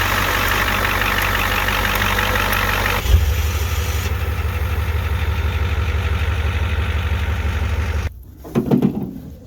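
A 1994 Ford F250 XLT with the International Harvester IDI turbo diesel idles close by, a loud steady low rumble with a faint rhythmic clatter, which drops off sharply near the end.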